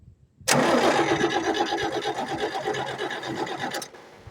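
An International 460 utility tractor's starter cranks the engine in a loud, rhythmic churning burst lasting about three and a half seconds, close by and with no talking.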